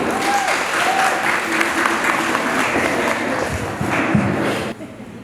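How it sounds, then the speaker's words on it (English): Sustained applause from a conference audience at a founders summit, loud and continuous with faint cheers and voices mixed in, cutting off abruptly near the end. "Let's give them a round of applause, ladies."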